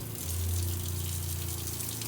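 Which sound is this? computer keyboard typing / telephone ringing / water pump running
water pump running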